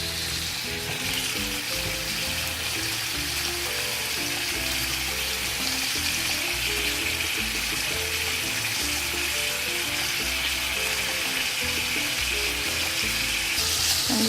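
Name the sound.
chicken sausage frying in olive oil in a pan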